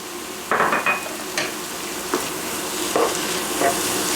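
Peppers stir-fried in a pan with cumin and paprika give a steady sizzle, and a utensil scrapes and clatters against the pan a few times, close and clear.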